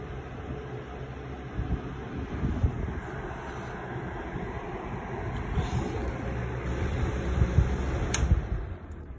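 Aerospeed box fan running on its high setting, a steady broadband whoosh of moving air that holds even and continuous throughout, with slight rumbling buffeting low down and no talking.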